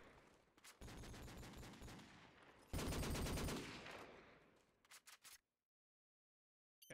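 Automatic MG fire in Call of Duty 4 Promod, two sustained rapid bursts of loud, dense gunfire followed by a few short separate shots, then silence.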